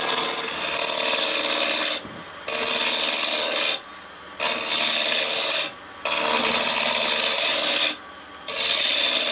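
Lathe tool cutting along a wooden goblet spindle, a steady broadband rasping scrape that runs in long sustained passes with four brief pauses between them, close and fairly loud with no talk.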